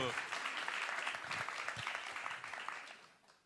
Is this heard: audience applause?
yes